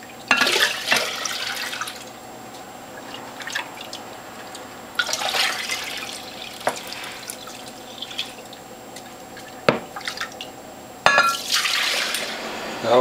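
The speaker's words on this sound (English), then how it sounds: "So we'll very carefully use a smaller container to transfer this juice, and then we'll pour it into bottles." Homemade watermelon juice, blended with rind, turmeric and ginger, is poured from a smaller container into bottles, giving several separate bursts of splashing liquid and trickling drips, fairly near, with quiet pauses between pours.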